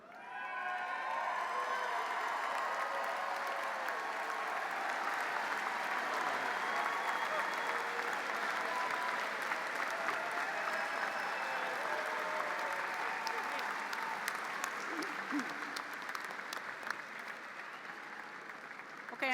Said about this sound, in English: another big round of applause for our master's recipients